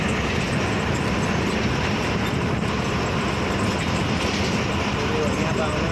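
A train rolls past on the line near Rangia station, giving a loud, continuous rumble and rushing noise throughout without clear breaks.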